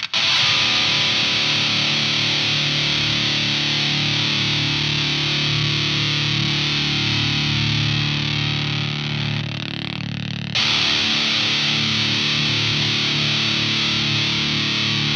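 Sustained, heavily distorted electric guitar notes through a Universal Audio Anti 1992 high-gain amp ring out, loud and saturated, with a brief dip before the tone resumes.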